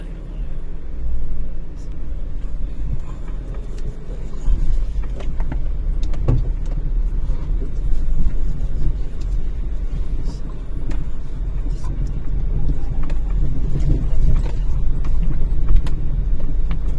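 Inside a car on a winding, extreme hillside road, a low rumbling engine and road noise fill the cabin steadily and loudly, with scattered small knocks and rattles and no talking.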